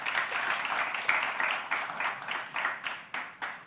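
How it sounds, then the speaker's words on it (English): Audience applause for guests at a climate accelerator demo day, a steady wash of many hands clapping with sharper individual claps standing out toward the end as it begins to thin. "let's give a big round of applause to our guests"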